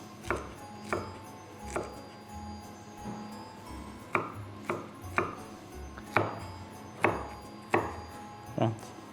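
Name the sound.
knife chopping red bell pepper into small cubes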